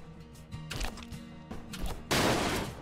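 Gunshots in Bridge Constructor: The Walking Dead, a few separate sharp bursts at a steady pace, followed by a louder, longer blast or crash near the end.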